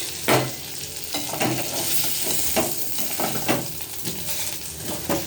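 Fish and greens being fried in a pan of fish oil, with steady crackling sizzle and scraping stirring strokes close up, no talking.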